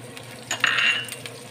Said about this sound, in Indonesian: tumis dulu ini bawang putihnya